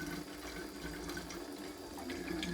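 Water running from a Kangen water machine into a container, a steady close trickling and splashing stream with no talk.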